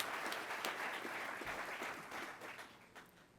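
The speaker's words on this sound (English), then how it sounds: "So please, a round of applause for our instructor pilots." An audience at a pilot training graduation applauds its instructor pilots, a sustained roomful of clapping that starts strong and gradually thins and fades toward the end.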